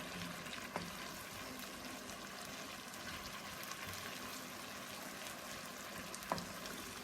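Mushroom and spinach risotto simmers and is stirred in a pan, a soft continuous bubbling sizzle with a few faint spoon scrapes and taps, no one talking.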